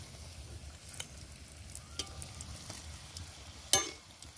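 Rohu fish pakoras frying in oil, a soft continuous sizzle and bubbling with occasional sharp pops and a clink near the end, quiet and close, with no talking.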